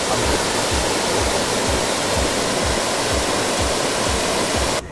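A natural waterfall at Turtle River Falls and Gardens roars steadily and loudly, a dense unbroken rush of falling water heard up close with no voices.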